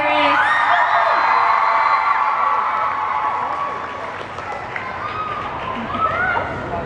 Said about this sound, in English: There was a lot of screaming